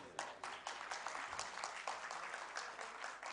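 An audience at an international Punjabi conference applauds a singer's gentle performance, steady clapping sustained throughout at moderate distance, fairly faint.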